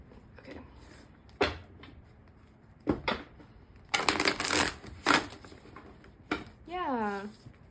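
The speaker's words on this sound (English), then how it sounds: "Yeah, that's how you shuffle." Bursts of tarot cards being riffled and snapped together, several brief shuffles spaced apart, with quiet talk and a short vocal sound near the end.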